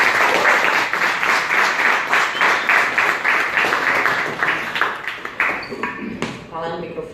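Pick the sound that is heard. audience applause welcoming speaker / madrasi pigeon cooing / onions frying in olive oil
audience applause welcoming speaker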